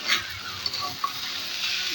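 Rice and onions frying in a pan for biryani, with a steady hiss and sizzle broken by a couple of short scrapes of a spoon stirring the grains; close and fairly quiet, with no talking.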